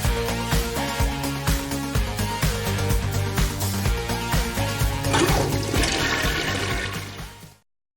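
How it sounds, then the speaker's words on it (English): A toilet flush sound effect plays as a steady rushing gurgle of water, loud and continuous for several seconds over a layered tonal backing, then cuts off abruptly. "I thought we got rid of the flush sound."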